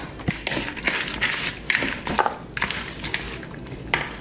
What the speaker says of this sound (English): Then I'll add in my ground beef and mix all of this up.